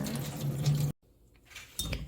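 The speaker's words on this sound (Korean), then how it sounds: "그리고 찬물 샤워를 한번 시켜줍니다." Running water pours steadily over beef being rinsed under cold water, cuts off briefly, then resumes, with a faint clink in the pause; close by, no talking.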